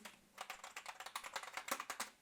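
Quick, light tapping on a cheap Poundland computer keyboard, a rapid run of clicky plastic keystrokes close up in a quiet room.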